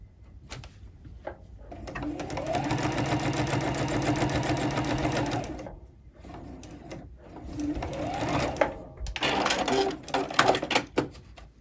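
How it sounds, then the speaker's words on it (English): A sewing machine stitches a second, wider seam along a fabric coffee sleeve: two loud, steady bursts of rapid stitching separated by a short pause, ending with lighter clicks and handling noises. "I can go ahead and just stick this back underneath the machine. I can go ahead and take a little bit of a bigger seam."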